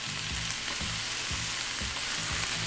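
Whole shrimp with tails and garlic fry in oil in a pan, giving a steady close sizzle with soft rhythmic scraping and stirring and no talking.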